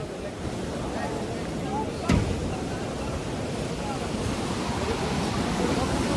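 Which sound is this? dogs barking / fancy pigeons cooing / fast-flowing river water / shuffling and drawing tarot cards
fast-flowing river water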